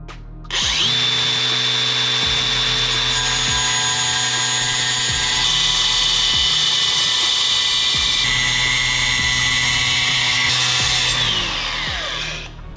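Power tool cutting through metal during an Akebono big-brake install on a Nissan 350z, a loud continuous high whine lasting about ten seconds with brief dips in pitch as the blade loads, then winding down, with no talk.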